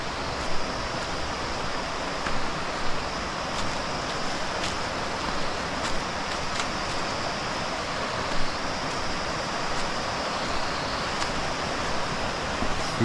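A pretty river in Kalagarh Tiger Reserve, Uttarakhand, rushing steadily as a dense, even wash of flowing water, close and constant with no talk over it.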